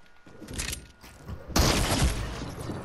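Gunfire in a desert-zone war video game, a few separate bursts, with one long, loud, dense volley taking over midway and carrying to the end, close and harsh.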